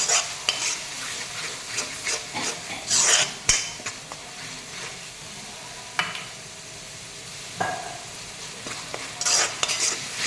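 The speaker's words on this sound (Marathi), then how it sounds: "मसाला छान भाजून घ्यायचं, मोठ्या गॅसवरतीच घ्यायचं" Masala roasting on a high flame for mutton rassa, with a steady sizzle and frequent bursts of spoon scraping and clinking against the pot, loud and close, with no voices.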